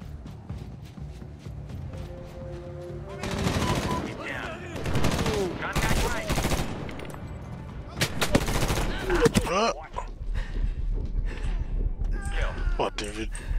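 Gunfire in Medal of Honor 2010 on PC: scattered single shots build into dense bursts of automatic fire, with a loud cluster near the end and sporadic shots trailing off, over game ambience.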